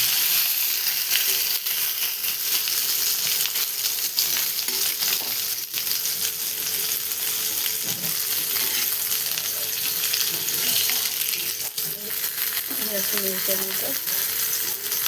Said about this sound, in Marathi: इथं मी असा मस्त मिरच्याचा भाजी घेतल्या तव्यावर एकदम छान असा फ्राय करून घेतल्या तव्या